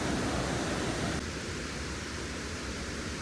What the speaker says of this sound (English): you can start hearing Nugget River